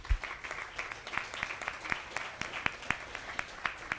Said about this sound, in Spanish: démosle un gran aplauso a Mica